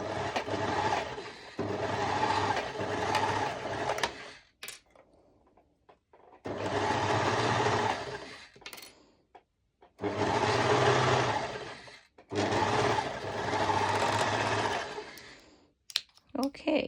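An electric sewing machine stitches a twisted knot skirt in four long whirring bursts separated by brief pauses with small clicks and handling noises, recorded close.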